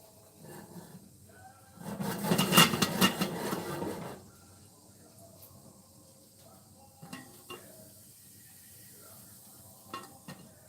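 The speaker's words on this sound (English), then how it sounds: "the butter or the oil, it has gotten really hot, so it's just sizzling in there" A short burst of crackling sizzle from butter or oil in a hot pan on the stove for about two seconds, then quiet with a few faint clinks.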